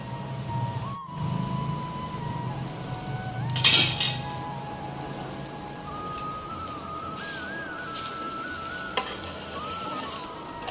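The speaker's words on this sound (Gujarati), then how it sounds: "ધીરે ધીરે થેપલાને દબાવીને શેકતા જઈશું, જેથી પોચા અને ક્રિસ્પી સરસ બનશે" Bottle gourd thepla flatbread sizzles as it is pressed and roasted on a hot pan, a steady soft frying hiss with occasional spatula scrapes and a clink, no talking.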